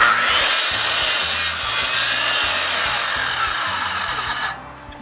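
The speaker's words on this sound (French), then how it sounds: "je me fais une emmanchure avec mon guide de coupe pour couper les angles à 45 degrés avec ma scie" Circular saw running steadily through wooden boards at a 45-degree angle, guided by a cutting jig in a woodworking shop; loud, continuous rasping whine that drops away at the end.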